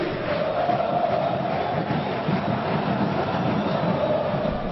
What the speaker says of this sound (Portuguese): Sentir a torcida do Bahia?